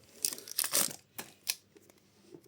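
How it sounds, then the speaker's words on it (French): A Pokémon card booster pack from an elite trainer box being torn open by hand, a few quick crinkly rips and crackles of foil wrapper in close succession, then softer rustling. "C'est vrai qu'il s'ouvre bizarrement ces boosters. Dès que tu tires dessus, ça se déchire."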